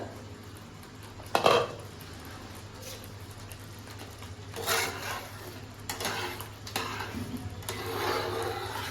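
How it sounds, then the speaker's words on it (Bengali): A metal lid clanks once against a pot of cooking masala for homemade butter chicken, a short close clatter followed by quieter scrapes and rattles over a steady low kitchen hum. "ঢাকনাটা খুলছি, মানে মশলাটা হয়ে এসছে"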